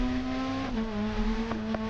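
Rally car engine in a video game, a steady high droning note that dips slightly in pitch as the revs settle, loud and continuous with no talking.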